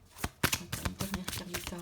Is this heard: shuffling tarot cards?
yes